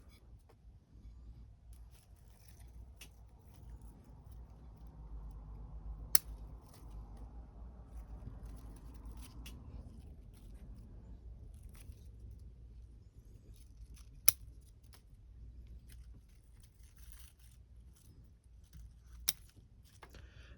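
Pruning snips cutting Chinese elm shoots: a few sharp, isolated clicks spaced several seconds apart over quiet background hum, with someone talking softly throughout.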